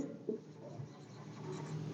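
Someone writes on a board in a classroom lesson, producing a short, faint run of scratchy strokes that rub and tap quietly against a low room hum.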